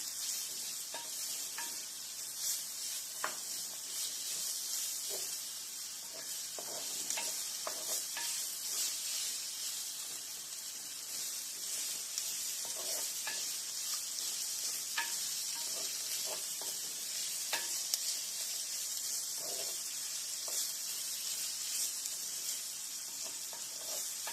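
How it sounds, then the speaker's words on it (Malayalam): Chopped onions sizzle steadily in a hot pan for a sardine curry while a spoon stirs them, giving irregular scraping clicks over a constant bright frying hiss, with no talking. "എന്നിട്ട് ഇത് നല്ലപോലെ ഇളക്കി വെക്കാം"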